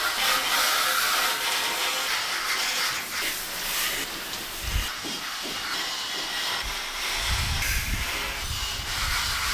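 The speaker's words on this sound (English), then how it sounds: "I ended up hosing down our back like doors and the fly screens because they were so dirty" A garden hose sprays water over dirty back doors and fly screens outdoors, making a continuous close hiss with occasional low splashing thumps as the spray strikes surfaces.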